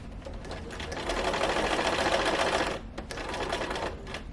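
Sewing machine stitching the body of a sofa slipcover, a steady continuous mechanical whir running throughout at close range, briefly slowing and dipping near the end before running on again.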